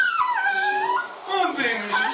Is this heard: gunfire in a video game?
no